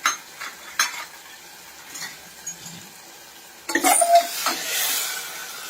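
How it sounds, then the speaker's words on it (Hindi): Spoon stirring peas and spices together in a hot pan for baingan bharta, with soft scrapes and a light sizzle that turn louder and busier toward the end. "और सब चीज़ों को अच्छे से मिक्स कर लेंगे।"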